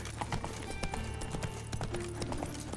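Roach, the horse in The Witcher 3: Wild Hunt, galloping with steady rhythmic hoof clip-clops at close range, set against game music and ambience.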